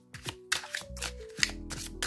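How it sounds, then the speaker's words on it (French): Tarot cards being drawn and set down during a reading, several soft papery slaps and slides heard close by over a faint background tone. "On va tirer quelques autres cartes pour regarder."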